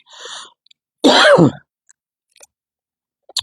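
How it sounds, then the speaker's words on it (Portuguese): A close, loud single burst of coughing and throat clearing from a woman reading scripture aloud, heard after a short stretch of her speech and followed by quiet with faint small mouth noises. "Ai, gente, a minha garganta, essa tosse"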